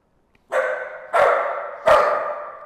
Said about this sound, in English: I'm honestly not sure what she was barking at.